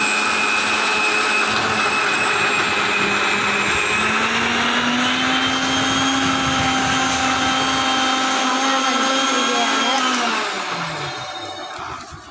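A blender whirs loudly and steadily for about ten seconds, mixing milk for a Sharjah shake, then winds down and fades near the end.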